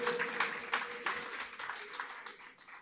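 Applause from an audience at an indoor event, a dense patter of clapping that fades gradually over nearly three seconds.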